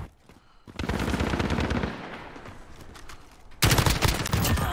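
Kilo assault rifle fire in a Call of Duty: Modern Warfare Search and Destroy multiplayer match, delivered as rapid automatic bursts that fade briefly and then return louder and closer near the end.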